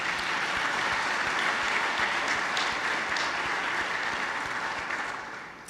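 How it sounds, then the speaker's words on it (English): A large audience applauds at a security conference opening, honoring supporting partners and exhibitors; dense, steady clapping fills the room for several seconds before tapering slightly at the end. "please join me in a round of applause for our supporting partners and"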